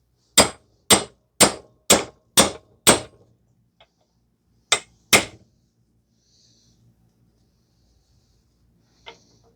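Hammer blows knocking out a front wheel bearing on a 2009–2019 Toyota Corolla: six sharp, evenly spaced metallic strikes, a pause, two more hits, then near silence with one faint tap.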